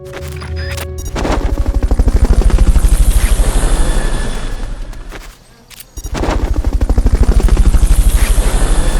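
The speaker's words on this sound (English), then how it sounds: "Fulton recovery subject confirmed onboard helicopter." A Fulton recovery helicopter in Metal Gear Solid Peace Walker, its rotor thumping loud and close in a steady rapid beat that dips briefly, then returns, with short sharp game sounds at the start.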